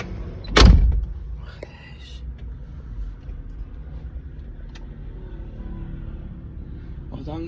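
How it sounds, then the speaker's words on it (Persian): A door on a Brabus G63 shuts with a single loud, solid thud near the start, followed by a low idling rumble and faint background noise. "بریم صدای درش رو بشنویم."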